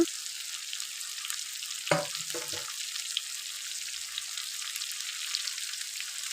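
Chopped capsicum with turmeric frying in oil in a pan, a steady soft sizzle throughout with a brief louder clatter near two seconds as the pieces are stirred.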